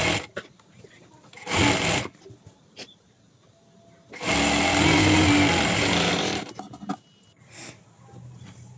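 A sewing machine stitches a waist dart on an Aari-work blouse in short bursts: one quick run, then a longer steady whirring stretch, with quiet handling sounds between.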